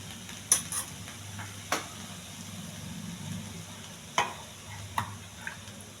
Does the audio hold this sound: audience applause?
no